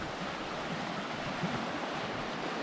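Creek water flowing outdoors near a tree, a steady, continuous rushing wash at moderate level with no voices over it.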